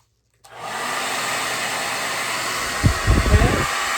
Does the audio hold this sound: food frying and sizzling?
no